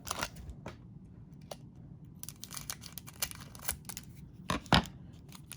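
Crinkling and tearing of a 1983 Donruss Action All Stars baseball card pack wrapper being opened by hand, close and fairly quiet, with scattered crisp rips and a sharper tear near the end.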